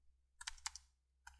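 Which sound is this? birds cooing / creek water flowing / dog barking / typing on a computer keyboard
typing on a computer keyboard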